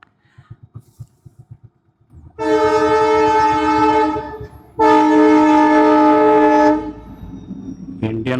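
The Nagarsol–Kacheguda Indian Railways passenger train passes a closed railway crossing, sounding two long, loud horn blasts over a heavy rolling rumble that continues after the horn stops.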